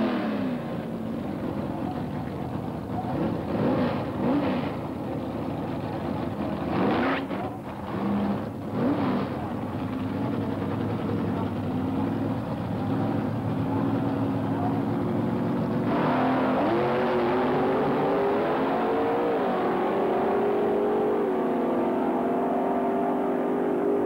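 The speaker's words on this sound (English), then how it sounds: "The sounds are absolutely ear-splitting as pair by pair the cars make their way" Drag racing cars run at Santa Pod in 1986, giving a continuous, distant engine roar that swells and fades as pairs run the strip. The pitch climbs steadily toward the end.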